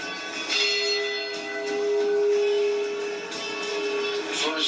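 A memorial bell tolls in a long, sustained ring, its humming overtones lingering and swelling softly with no clear separate strikes, moderately loud and without talk.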